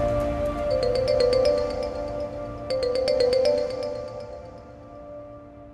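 A mobile phone ringtone plays a repeating melodic pattern in two bursts, ringing on unanswered indoors during a Pakistani television drama, steady and fairly close with no talking over it.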